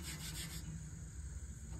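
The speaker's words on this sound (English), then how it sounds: "wet sanding" Steady gritty rubbing of 320-grit waterproof sandpaper wet sanding a Blackstone griddle surface, continuous and close, with a smoother, softer texture partway through.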